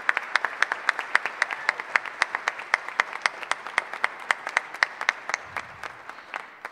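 Choir concert audience gives a round of applause, a fairly even, rhythmic run of distinct handclaps heard from moderate distance, tapering slightly toward the end.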